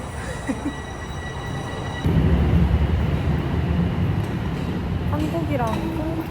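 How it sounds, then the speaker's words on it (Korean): A Toronto subway train rumbles loudly through the tunnel, the steady low roar swelling after a couple of seconds and holding, with a voice speaking over it. "지하철"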